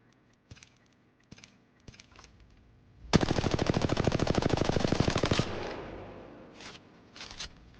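R-301 carbine in the Apex Legends video game firing a sustained full-auto burst of about two seconds, loud and rapid, after a few short isolated shots and clicks, with fainter single shots trailing off at the end.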